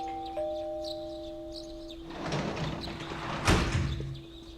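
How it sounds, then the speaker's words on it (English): Doorbell ringing inside a video game, a chiming tone after a held electronic hum, followed by a soft rustle and a brighter ding, quiet and alone without talk. "You hear the doorbell ringing."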